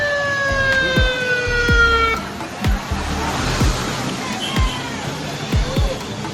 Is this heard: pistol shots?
no